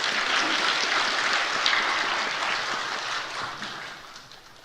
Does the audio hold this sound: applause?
yes